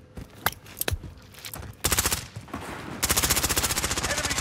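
Call of Duty: Resurgence enemy gunfire cracks out in scattered single shots, then breaks into rapid sustained automatic bursts, loud and close, with no talking over it.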